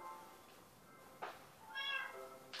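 A cat in the Minecraft video game meows a few times, short high cries that grow slightly louder toward the end, over a quiet, low background.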